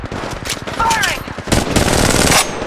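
Weapon gunfire in Apex Legends Mobile: rapid bursts of automatic shots crack loudly and close, with brief gaps between bursts, over game effects and a faint rising tone.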